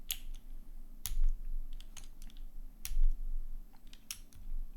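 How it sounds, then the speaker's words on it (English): A Think6.5 v2 mechanical keyboard is typed on in short bursts of clacky, fairly high-pitched keystrokes, close and fairly quiet, with a few sharper louder clicks and no talking. "I think typing with them could sound interesting. Pretty clacky,"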